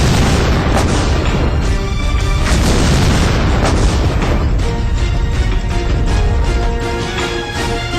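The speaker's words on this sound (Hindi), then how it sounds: "हजारों फीट ऊपर आसमान से एक मिसाइल छूटती है और सबका काम तमाम कर देती है" A Predator drone missile strike explosion: a loud, sustained booming blast with heavy low rumble and crackling debris that fills the whole stretch and eases slightly near the end.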